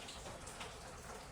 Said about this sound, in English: So if you can hear that in the background, that's raindrops are falling, coming off the house and stuff.